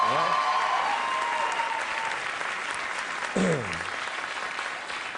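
Studio audience applause on a late-night talk show, a steady crowd clapping throughout with a voice speaking briefly partway through, the clapping continuing beneath it.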